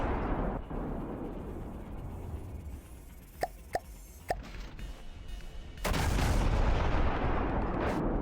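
Rapid CIWS frag shrapnel gunfire in the From The Depths naval combat game: a steady rumbling barrage with a few sharp distinct shots, then a louder, denser burst of continuous fire near the end.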